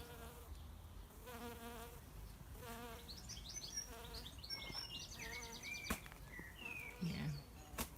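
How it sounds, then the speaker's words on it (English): Bees buzzing around pink yarrow flowers in an open garden on an evening, with soft wing drones drifting in and out at close range and faint bird calls in the background. "there's lots of bee activity on this"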